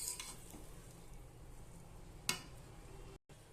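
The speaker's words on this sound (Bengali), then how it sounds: "এবার আমি একটু ভালোভাবে নেড়ে দেব।" Tehari rice being stirred in a cooking pot, a soft continuous scraping and shuffling with one sharper clink of the spoon against the pot partway through, alone and close.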